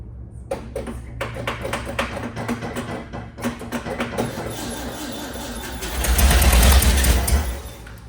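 A 1961 Volkswagen Beetle barn find is cranked and started, with rhythmic tapping and knocking cranking that builds into a loud, rough engine roar near the end.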